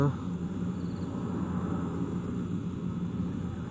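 A steady, broad airplane drone rumbling at a distance, even and unbroken for a few seconds.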